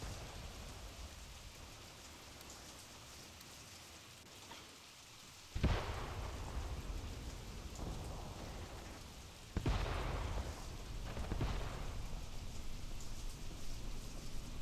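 Steady rain hisses across a battlefield in the World War II game Mius Front, broken by two heavy thunder cracks that rumble on for a few seconds, with no talking.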